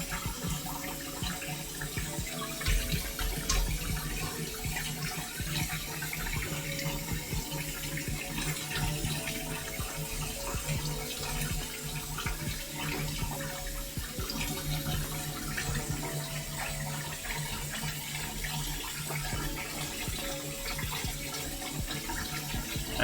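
Water streams steadily and drips into a sink during cyser mead bottling, a constant close splashing flow with no talk.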